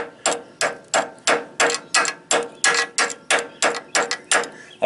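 A chipping hammer knocks slag off a weld on a steel trailer frame, with about fourteen sharp, evenly spaced metallic blows in quick rhythm, close and loud, with no talking.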